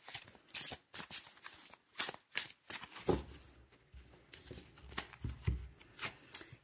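A tarot deck shuffled by hand, quick papery riffles and flicks close to the ear, followed by softer thuds and slides as a card is drawn from the pile, no speech.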